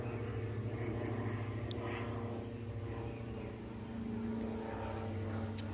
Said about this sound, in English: I'm gonna let this airplane go by